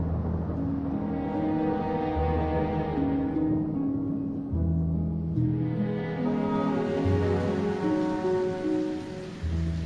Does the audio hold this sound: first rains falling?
yes